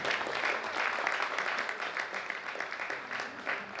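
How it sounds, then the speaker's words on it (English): Steady applause from a conference audience at the opening of a scientific society's annual general meeting, dense and sustained clapping filling the hall for several seconds without any voice. "Please let's give him a round of applause."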